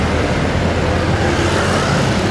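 A bus passes with other road traffic on a street in Bekasi, a loud, steady roar of engine and tyres close by, heard without speech.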